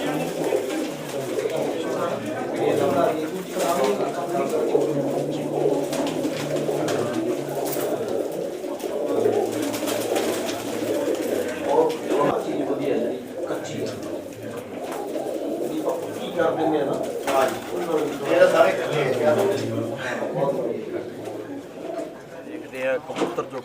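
Many pigeons, including a red Chinese pigeon, coo steadily in a low, throaty chorus throughout, with people talking over the birds.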